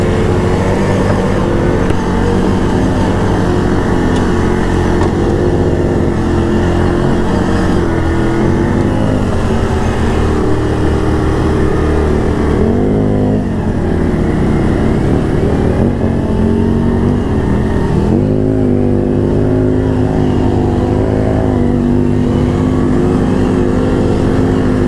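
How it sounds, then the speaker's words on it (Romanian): Two ATVs and two side-by-side buggies, among them a Can-Am 800R, Polaris RZR 900, CF Moto ZFORCE 1000 Rally and Yamaha Grizzly 700, drive with engines droning loud and close, rising and falling in pitch without pause. "Suntem două ATV-uri și două mașinuțe."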